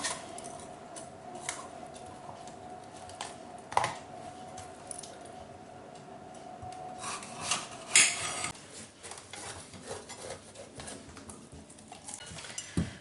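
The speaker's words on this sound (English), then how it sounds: "So we'll just start off by chopping up some peppers." Peppers being chopped on a kitchen board for a vegetable lasagne, giving scattered knife taps and clatters of cutlery and dishes at close range, with a louder cluster of clicks around the middle and no talking.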